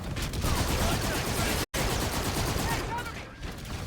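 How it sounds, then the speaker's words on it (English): Anti-aircraft guns firing in a video game, a dense continuous roar of rapid automatic fire that is loud and close, cut by one abrupt momentary dropout before the barrage carries on. "AA guns are cutting us up."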